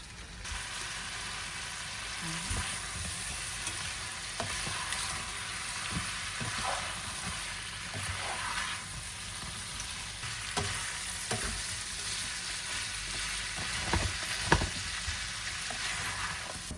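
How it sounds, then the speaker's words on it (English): Shrimp sautéing in a pan of garlic butter give a steady, close sizzle with scattered clicks and scrapes of stirring, no talking. "Then you can add your shrimp into the pan. Saute very well until it turns pink."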